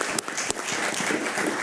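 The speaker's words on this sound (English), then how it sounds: "That deserves applause." Audience applause rings out in a county commissioners' board meeting, a dense, steady wash of clapping from a crowd with a couple of sharper claps standing out near the start.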